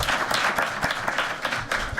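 Audience applause fills a lecture hall after a panel speaker at a legal discussion on judicial activism and access to justice, steady dense clapping sustained throughout at close range.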